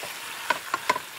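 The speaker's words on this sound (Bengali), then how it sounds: "ভালো মতো কষাতে হবে সিমটা" Flat beans being sautéed and stirred in a pan: a soft, steady sizzle with three short clattering scrapes of the spoon, close by and with no talking.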